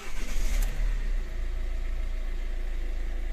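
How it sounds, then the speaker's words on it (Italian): A Fiat Tipo 1.6 Multijet II diesel cranks and catches, a loud burst of starting noise settling within about a second into a steady, close idle. "Adesso mettiamo in moto"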